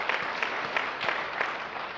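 Audience applause at an indoor retreat session, a steady patter of many hands clapping at moderate distance, fairly soft and even throughout with no voices over it.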